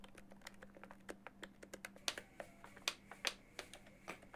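Key clicking of a Roland Aerophone AE-20 electronic saxophone comes as a quick, irregular run of soft, close mechanical clicks over a low steady hum, with no voice.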